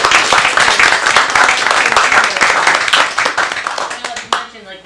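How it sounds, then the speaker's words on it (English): Applause at a city council meeting following a proclamation, dense and lively clapping from the chamber that carries on for several seconds before thinning and stopping abruptly at the end. "for this one, we are definitely going to clap."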